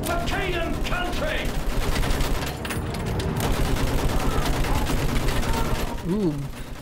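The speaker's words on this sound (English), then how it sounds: "Use that machine gun! Mow them down!" Machine gun fire in the Battlefield 1 game rattles in dense, continuous bursts, loud and close, with battle noise around it and in-game voices shouting faintly underneath.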